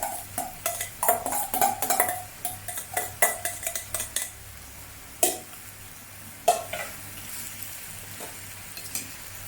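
Lamb pieces and onions tipped back into a hot curry pan after deglazing, giving a sizzle with scraping spoon and clanking pan hits in bursts, then calmer frying with occasional knocks.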